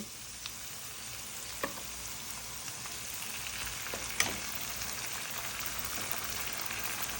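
Spices, onion, garlic, ginger, dried chilli and cumin frying in a pan, a continuous dense sizzle close up with a few faint ticks and pops scattered through it, and no talking.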